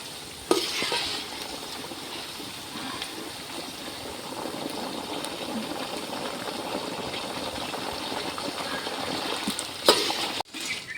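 Banana chips (upperi) frying in hot oil with salt water added, a steady crackling sizzle with a sharper hiss near the start and a brief louder burst near the end.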